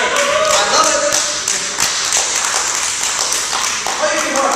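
A live kung fu demonstration audience applauds in a dense, steady patter of clapping, with voices mixed in throughout.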